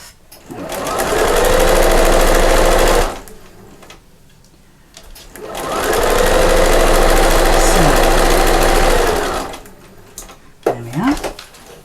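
A sewing machine stitches fabric and piping in two long runs of rapid, steady mechanical whirring, loud and close, with pauses between and a voice briefly at the end.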